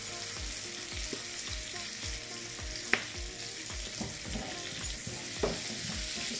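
Sausage and onions fry steadily in a pan, giving a constant close sizzle with occasional sharp clinks and scrapes of stirring.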